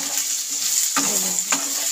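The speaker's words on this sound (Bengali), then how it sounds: "এবার আমি একে একে যে সবজিগুলো নিয়েছিলাম এটার মধ্যে দিয়ে সবগুলো দিয়ে ভালো করে ভেজে নেব" Mixed vegetables for a flattened-rice pulao fry in a pan, giving a constant loud sizzle with two quick scraping stirs partway through, close up and with no talking.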